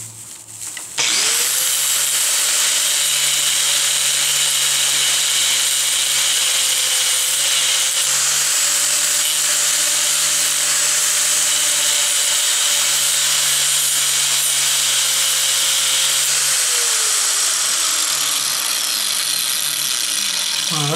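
A LifeStraw water filter with a hard epoxy core is sawn through, a loud, close, continuous whirring cut that holds for about sixteen seconds before winding down.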